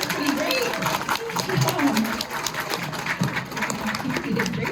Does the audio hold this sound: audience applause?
yes